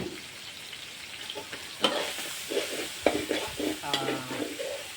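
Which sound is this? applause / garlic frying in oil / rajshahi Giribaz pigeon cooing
garlic frying in oil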